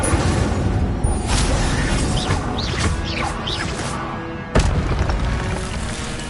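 A whooshing, crackling burst of flame from an Incendio fire spell in Hogwarts Legacy, set over a loud, rumbling game soundscape, with a sharp boom near the end. No voices.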